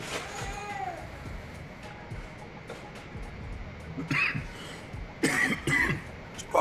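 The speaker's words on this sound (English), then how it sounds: "Stop coughing, boy." A few harsh coughs burst out close by near the end, following a stretch of quieter background noise.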